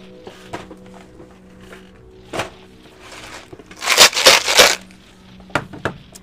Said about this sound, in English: That is the sound of my honey roasted peanuts.